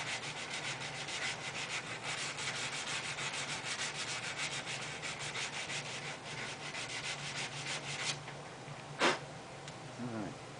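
A car radiator is sanded and buffed to a shine after its solder has been removed, giving a steady, close abrasive rubbing that runs continuously, with a brief sharp scrape near the end.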